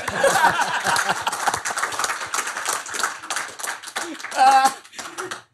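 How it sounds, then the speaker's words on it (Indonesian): A crowd breaks into scattered clapping mixed with chuckles and laughter, a lively burst of applause that tapers off near the end. "Tepuk tangan yuk."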